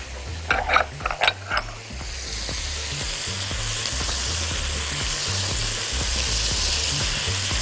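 Peas hit a hot frying pan with a few sharp clatters, then settle into a loud, steady sizzle that carries on unbroken.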